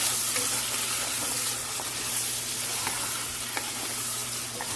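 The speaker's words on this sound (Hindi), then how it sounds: "तो अभी हम इसमें थोड़ा सा टमाटर डालेंगे" Meat frying in a pot for beef biryani as tomatoes go in, giving a steady, dense sizzle with light scraping and stirring throughout, fairly close, with no voices.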